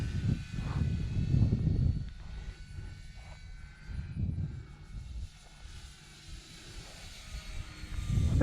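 Aero Scout RC airplane flying at an outdoor field, its small propeller engine droning and swelling as it passes, loud at times and fading in between, with no speech.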